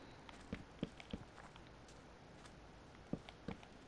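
Footsteps in Minecraft, a handful of soft, quiet steps in two short clusters, separated by a pause, over a faint background hum.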